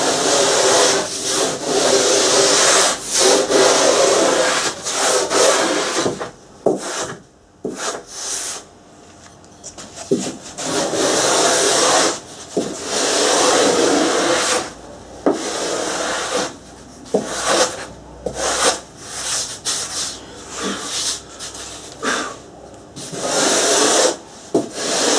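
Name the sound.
hand-shaping a surfboard, taking the stringer down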